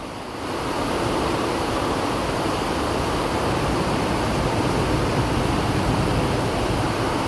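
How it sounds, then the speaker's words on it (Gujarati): Heavy monsoon rain pours in a dense, loud, unbroken hiss that swells in within the first second and holds steady throughout, with no voices. "એટલો વરસાદ આવે છે વાત પૂછો માં."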